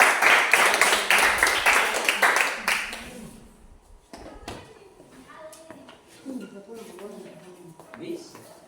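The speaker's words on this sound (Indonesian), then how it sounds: "kita berikan aplaus untuk kelompok" Classroom audience applauding a student group after its presentation on a simple hydrometer experiment: a few seconds of dense, close clapping that quickly thins out, followed by a teacher speaking over light room noise.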